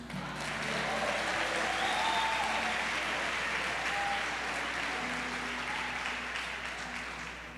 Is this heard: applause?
yes